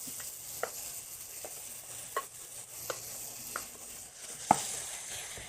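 Vegetable pieces brown in a hot pan for a vegan dish, a low steady sizzle broken by about seven sharp stirring knocks, with no voices.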